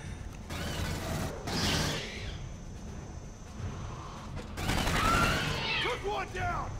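Sentry turret gunfire in the video game Aliens Colonial Marines, dense sustained automatic bursts with rattling mechanical noise and screeching creatures, loud and continuous throughout, no clear talk.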